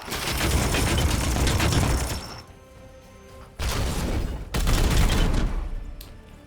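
Sustained burst of game gunfire from Warhammer 40,000: Chaos Gate - Daemonhunters, loud and dense for two seconds, then a lull and two more crashing volleys with sharp impacts.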